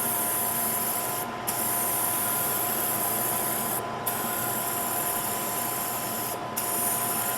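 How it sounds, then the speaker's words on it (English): A spray gun sprays a coating material with a steady, loud, hissing rush, broken by three brief pauses as the trigger is released. "I'm still having a little bit of a hard time getting used to the 90-degree spraying."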